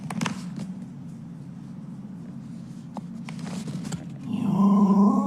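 A Jack Russell terrier growls low and steadily, with a few soft scuffs along the way, then swells into a louder, more strained growl near the end.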